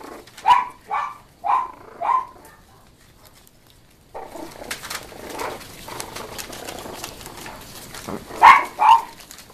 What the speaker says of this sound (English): who is that barking?